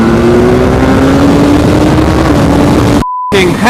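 BMW S1000R naked motorcycle with a detuned S1000 engine, revving hard and loud with a rising tone throughout, broken by a brief dropout near the end before the engine roar returns, with a voice mixed in.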